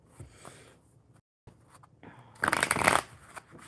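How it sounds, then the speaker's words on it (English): A deck of playing cards being shuffled up close: a soft riffle early on, then a brief pause and a loud, rapid burst of flicking cards near the end. "So we're going to get them shuffled real good."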